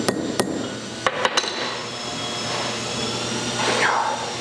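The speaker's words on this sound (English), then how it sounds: "I may have to tap it with a hammer" Several sharp metallic hammer taps on an engine cylinder part during a rebuild, one and then a quick cluster of three, over a steady mechanical hum.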